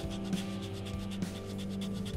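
Steady hand sanding of stainless steel guitar fret ends with sandpaper, a continuous close scraping with faint rhythmic strokes and a low hum underneath.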